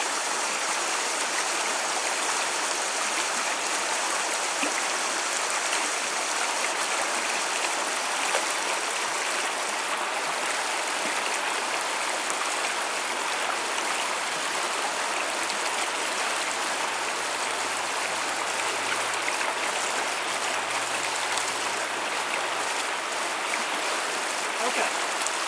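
A river flows in a steady, unbroken rush of water that stays close and even throughout, with no clear speech over it.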